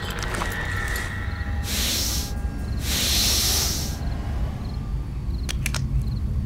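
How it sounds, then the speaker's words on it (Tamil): Two short bursts of hissing spray sound up close, one after the other, separated by a brief pause over a quiet background. "நல்ல ஸ்ப்ரே"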